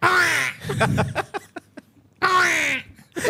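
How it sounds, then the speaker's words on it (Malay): Two loud, harsh caws from a crow, separated by a brief stretch of softer clicking and rustling sounds, near and prominent. "Itu bunyi gagak."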